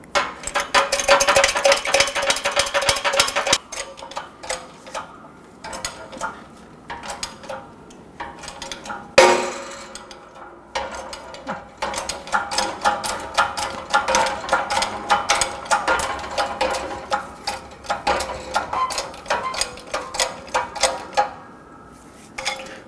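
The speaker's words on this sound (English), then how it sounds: "This is going to help me press the bearing right out." Metallic creaks, clicks and ratcheting as a press with a 36mm socket and spacer forces a front wheel bearing out of the steering knuckle of a 2006-2010 Hyundai Sonata, irregular mechanical taps and squeaks with a sharp pop midway.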